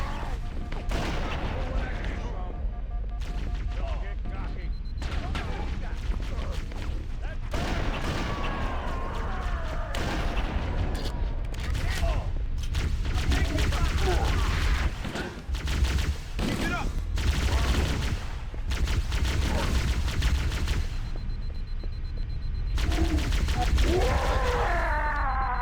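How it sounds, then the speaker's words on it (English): A Halo plasma pistol fires in rapid bursts, dense repeated energy shots layered with other gunfire and explosions in a constant loud firefight, with voices talking throughout. "It's nice that the plasma pistol has such a high rate of fire."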